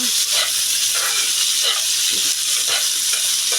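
Fresh cashews dry-roasting in a pan for a Marathi cashew curry, giving a steady close sizzle and hiss with soft scraping stir strokes repeating through.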